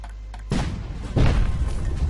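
An exploding cannon shot from the video game Cannonbrawl gives a loud low boom halfway through a second, then a second heavier rumbling blast follows, with no voices.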